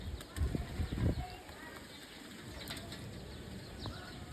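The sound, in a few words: pigeon bathing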